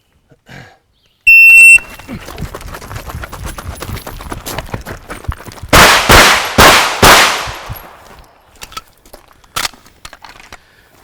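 A shooting drill opens with a sharp electronic start beep from a shot timer. After a pause of shuffling movement, a quick string of four loud, close gunshots follows, then a few faint clicks.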